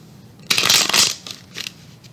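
Tarot cards are shuffled close by in one loud riffling burst, followed by two shorter flicks of the deck, with no voice present.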